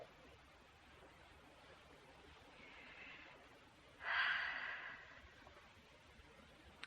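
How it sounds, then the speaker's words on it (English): A sleeping man gives a single soft, breathy snore-like snort that rises and fades over about a second, faint and alone against a quiet outdoor background under trees. "please don't wake me if I snore"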